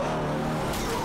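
Car in Yakuza 0 video game skidding with squealing tires and engine roar just before hitting a man, a loud continuous burst with no talk over it.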